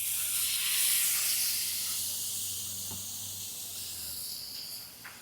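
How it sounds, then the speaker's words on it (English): Pompano fillets sizzle on a Blackstone griddle set to medium-high heat with butter: a continuous bright hiss with a faint low hum beneath it, loudest at the start and easing slightly over five seconds. "Okay, well, let's get this pompano on here."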